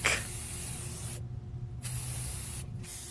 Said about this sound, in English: Now grab your favorite spray paint colors.